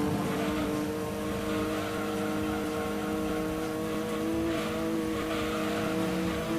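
A Volkswagen Golf's engine drones steadily in Gran Turismo 2, a continuous loud hum held at a fairly constant pitch throughout with no speech.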